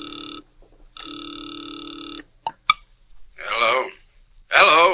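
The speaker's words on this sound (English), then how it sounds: "Now he waits, the ringing of a distant phone in his ears." A distant telephone rings through the earpiece in two long, steady electronic bursts, heard after dialing in a 1940s radio drama, followed by a short click and then voices speaking.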